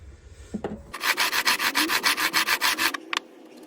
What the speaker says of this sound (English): make sure that file is not just bouncing off these frets, it's also pushing in and filing it down